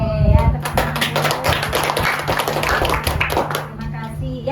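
A classroom group clapping hands together during a university teaching session, a burst of rapid, overlapping claps with children's voices mixed in, then a teacher's voice speaking.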